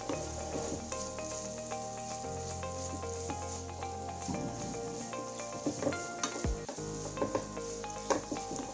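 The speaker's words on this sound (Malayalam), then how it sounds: "2 സവാള സ്ലൈസ് ചെയ്ത് വെച്ചതാണ്, അത് ചേർത്ത് കൊടുക്കാം. എന്നിട്ടൊന്ന് വഴറ്റിയെടുക്കാം." Sliced onions sautéing in a pan for Kerala-style chicken mappas, a steady low sizzle with occasional stirring clatter and scrapes of a utensil, close and continuous with no talking.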